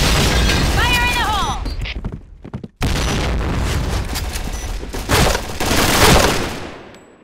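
Loud gunfire bursts and explosion booms from a Counter-Strike match on the Downtown map, nearly continuous across the clip with a brief drop in the middle and voiced radio callouts over it.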